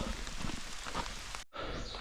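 Rain falls steadily in the mountains as a soft, even wash of hiss, broken by a brief dropout before resuming.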